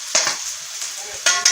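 Chopped onion sizzles and fries in a hot pan while being stirred for a potato tray bake, with a steady close crackle and brief louder bursts at the start and end.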